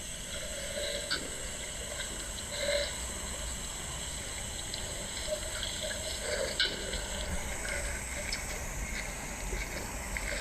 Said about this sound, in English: You can hear them slurping up the water.